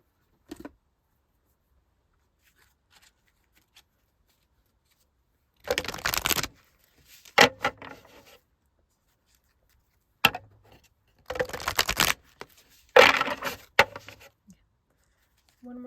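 Oracle cards are shuffled by hand during a tarot reading in several short riffling bursts separated by quiet pauses, fairly close and with no talking over them.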